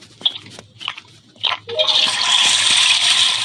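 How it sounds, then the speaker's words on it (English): A toilet flushes during the cleaning task on the Among Us airship map: a few short clunks and squeaks, then a sustained loud rushing swirl of water, close and alone. "Open this and start cleaning the toilet."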